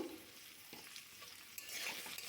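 Diced potatoes and carrot fry in oil in a pan, a faint, steady sizzle broken by a few light stirring scrapes, with no voices.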